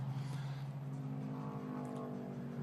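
KTM X-Bow GT4 race car driving hard at the Red Bull Ring, a loud, steady engine drone with strong low harmonics shifting in pitch as it accelerates and changes gear, close and continuous.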